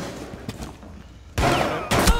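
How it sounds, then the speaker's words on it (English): Two bursts of gunfire in Rainbow Six Siege on the Chalet map, shot through the floor from another level: loud, dense rapid rounds starting midway and again near the end after a quieter stretch. "Did she shoot through the floor?"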